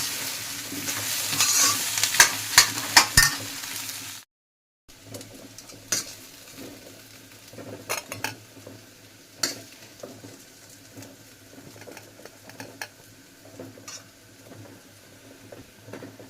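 Aloo gutka potatoes being stir-fried in a pan, with scraping and stirring strokes over a soft sizzle, louder at first, then a short gap and quieter intermittent clinks and scrapes.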